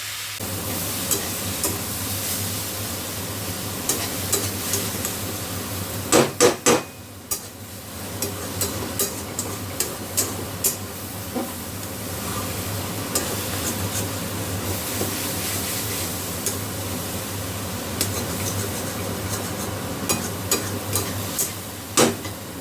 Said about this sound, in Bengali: এই আমার কফি ভাজাটা এখন আরেকটু লাল লাল করে ভাজলে